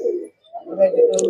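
Pigeons coo in low, soft burbling phrases close by, two short bursts separated by a brief pause, with a faint higher chirp at the end.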